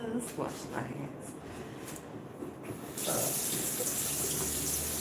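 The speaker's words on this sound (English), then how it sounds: "Wash my hands." Tap water running into a sink during handwashing. It starts suddenly partway through as a strong, steady hiss after a stretch of quieter room sound with a voice.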